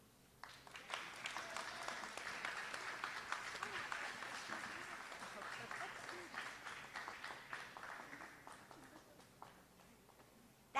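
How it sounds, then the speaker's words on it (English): An audience applauds in a long, dense burst of clapping at a tribute event, steady and fairly distant, thinning out toward the end. "One more round of applause, really."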